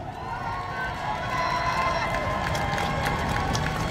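A crowd at an outdoor election campaign rally cheers and applauds in a sustained, dense wash of noise, with scattered claps rising toward the end.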